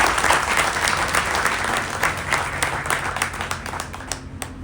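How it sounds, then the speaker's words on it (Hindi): An audience at a gathering claps loudly and densely, a sustained burst of applause that gradually thins as individual claps stand out toward the end. "जोरदार तालियां।"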